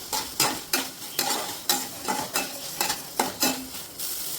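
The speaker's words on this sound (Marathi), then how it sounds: "हे चांगलं परतून घ्यायचंय" Pizza filling being sautéed in a pan, a continuous sizzle broken by rhythmic scraping stirs roughly twice per second, close and fairly loud, no voices.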